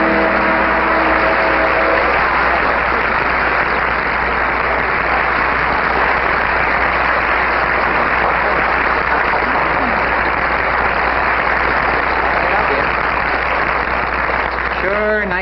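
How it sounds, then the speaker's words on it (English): A television studio audience applauds, a dense steady wash of clapping that goes on without a break, sounding somewhat muffled and lo-fi, with faint voices over it at the start and the end. "Nice to hear that applause, isn't it, Lucy?"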